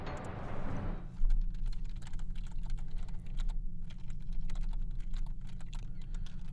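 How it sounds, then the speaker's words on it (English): Steady clatter of typing on a computer keyboard, fairly close, with irregular keystroke bursts over a low background hum, no talking. "I am typing"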